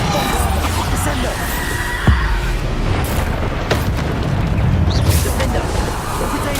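Bombarda explosion spells blasting in Hogwarts Legacy, several booming bursts and crashes over dense, loud game noise, with sharp hits recurring every second or so.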